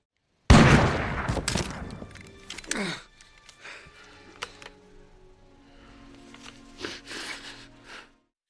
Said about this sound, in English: Jack appears out of nowhere and fires his father's gun, killing Fogarty.